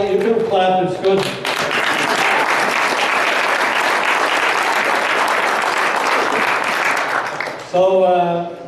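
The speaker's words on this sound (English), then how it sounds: "You can clap, it's good." Audience at a gathering breaks into sustained, dense applause lasting several seconds, with a voice speaking briefly just before and just after the clapping.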